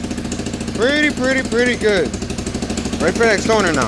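A quad ATV engine runs after starting, a steady loud pulsing idle close by, while someone talks over it at several points.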